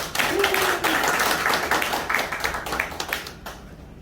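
An audience applauds at the opening of an industry-academia forum held on a cafe's third floor, a dense burst of clapping that swells quickly and then thins out and fades over a few seconds.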